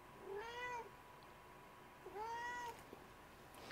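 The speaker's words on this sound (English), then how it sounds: "he meows in his face like this" House cat meowing indoors, two drawn-out meows separated by a short pause, fairly close but soft, with a quiet room in the background and no speech.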